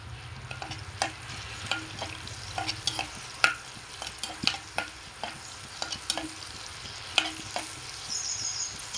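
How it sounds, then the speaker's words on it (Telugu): Green chilies fry in hot oil with a soft continuous sizzle, broken by repeated light scrapes and taps of a spoon stirring the pan, close and fairly quiet. "ఇలా మొత్తం మంచిగా ఫ్రై చేసుకోవాలి"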